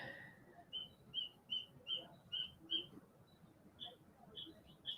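Birds chirp outside during a live broadcast, a run of about ten short, regular tweets followed by a few scattered calls, faint and distant against quiet room noise.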